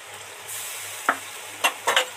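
Ginger garlic paste frying with onion and tomato in a pan, a quiet low hiss broken by three or four short, sharp scraping strokes of a spoon, no speech.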